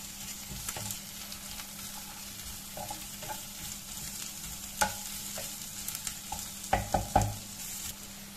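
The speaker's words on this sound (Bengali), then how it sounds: "আদা রসুনটাকে একটু ভালোভাবে ভেজে নেব।" Ginger-garlic paste fries with onions in a small amount of oil for a pangash fish curry. A steady low sizzle runs throughout, broken by occasional spoon scrapes and clinks that cluster toward the end, close up with no talk.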